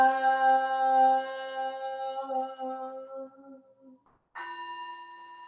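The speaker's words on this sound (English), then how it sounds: "bell." A bell rings with a long, shimmering decay that fades to near silence, then a second clear strike rings out.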